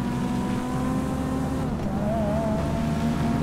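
A car engine and exhaust in the video game GTA 5 drone steadily and loudly throughout, with a slight rising whine near the end.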